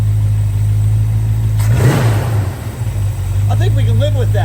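A 1968 Plymouth Barracuda with a 318 V8, freshly timed and idling, gets a quick throttle blip: steady loud idle rumble swells into a brief rev and settles back, close to the engine.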